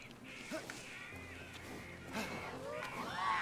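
Harpy-like birds call in the video game Immortals Fenyx Rising, with screeches and warbling cries sweeping up and down under ongoing game sounds and some talk.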